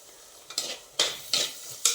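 Tomato and curry leaves tossed into a pan of softened onions, giving a few bright sizzling bursts as pieces hit the hot oil, with short stirring scrapes in between.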